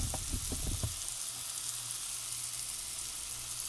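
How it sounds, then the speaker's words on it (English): Taco meat sears in a hot pan, giving a steady, even sizzle with a few soft stirring scrapes at the start, moderately close and uninterrupted by speech. "we're literally just searing that flavor on the outside"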